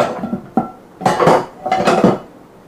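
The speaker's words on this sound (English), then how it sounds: "Let me get my pot top for the silver pot." A metal lid for a silver cooking pot being handled in a kitchen, with a sharp clank near the half-second mark, then two longer bursts of scraping, rattling metal contact, close and fairly loud, with no talking.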